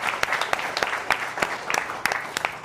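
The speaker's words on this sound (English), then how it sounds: "I think they all deserve a round of applause." A crowd at a 1 Million Cups entrepreneur meetup anniversary event bursts into lively applause, dense clapping with sharp individual claps near the microphone.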